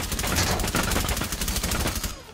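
Rapid, continuous bursts of automatic gunfire from a machine gun in the video game Rainbow Six Siege, dense and rattling, with a game-like processed quality, fading out at the end.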